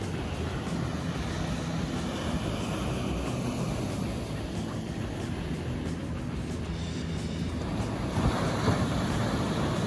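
Ocean waves break and wash continuously on a beach at a nature sanctuary, a loud, steady roar of surf with some wind buffeting and no talk.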